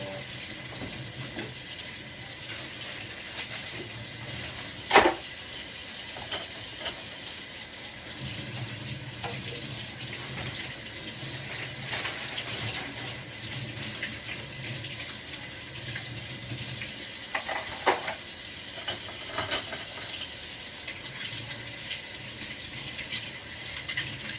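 Tap water runs steadily into a sink while dishes are washed, a continuous close hiss with occasional faint clinks and knocks, no voices.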